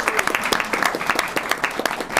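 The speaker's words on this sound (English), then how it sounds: "let's give them a round of applause for what they're doing" Audience at a Texas interns press conference applauds steadily, dense clapping filling the room for a couple of seconds with no talk over it.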